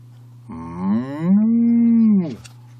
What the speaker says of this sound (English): I heard them as they mooed in harmony.